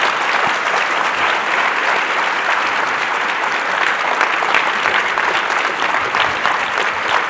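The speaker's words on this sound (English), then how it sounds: "Let's give a big round of applause." Steady, dense applause from a conference audience after a keynote panel discussion, sustained and fairly loud for several seconds with no talking over it.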